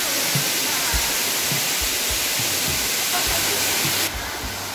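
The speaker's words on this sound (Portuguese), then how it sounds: "Cachoeira vem lá de cima," The Cachoeira da Caverna waterfall in Delfinópolis, Brazil, roars as a loud, continuous broadband rush of falling water from a canyon. Low thumps and wind or handling bumps sit underneath, and the level drops slightly near the end.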